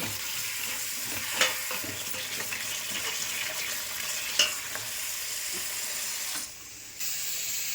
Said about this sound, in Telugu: టీ మరుగుతుంది చూసారా.